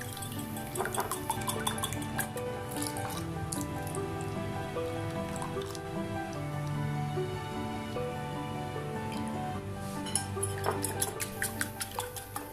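Two eggs with milk and vanilla essence are beaten in a bowl, a busy run of quick clinks and wet taps from the utensil against the bowl, continuing steadily over soft background music.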